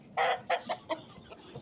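An Aseel rooster clucks in a short burst of several loud, close calls, the first long and the rest shorter and fading, with no talk over them.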